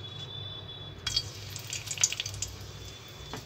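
Two bay leaves dropped into a spoonful of hot oil for a potato curry, giving a soft, steady sizzle with faint crackles and small pops, fairly quiet and close, with no talking.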